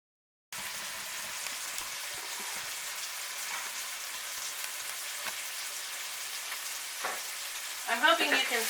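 Potatoes and onions fry steadily in olive oil in a pan, giving a continuous close sizzle with a few small pops and stirring scrapes, and a faint brief clatter near the end.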